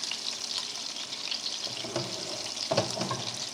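Salisbury steak with Dijon mustard simmering in gravy in a pan, a dense bubbling sizzle with soft scraping and shifting as the pan is moved.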